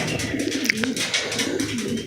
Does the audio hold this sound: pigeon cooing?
yes